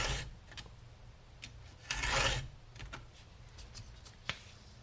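A chainsaw chain being sharpened with a hand file, giving short, dry rasping strokes, a few quiet scrapes and one longer louder pass, close up with no talking.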